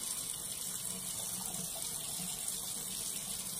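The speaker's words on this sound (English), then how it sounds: "And then I rinse." Bathroom sink tap running steadily as water rinses soap off a face during a skincare routine, a continuous close hiss and splash without pause.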